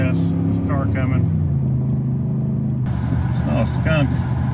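An oncoming car rushes past on a busy, winding road, heard from inside a Ford 7.3L gas truck towing a camper, its whoosh rising and fading under steady engine rumble while someone talks throughout.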